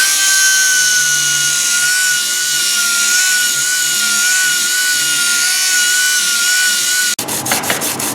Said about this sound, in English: We have to grind all around the perimeter and prepare it for glassing